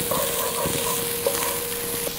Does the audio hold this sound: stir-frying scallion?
yes